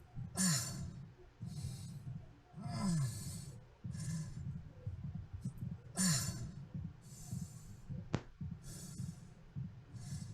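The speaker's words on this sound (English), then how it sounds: "when he moves around in this state, we start to introduce little winces of pain mixed into his breathing cycle" Injured Isaac from the Dead Space Remake video game breathing heavily in a repeating cycle of drawn-out sighing exhales and inhales, with short pained winces mixed in, close and fairly loud.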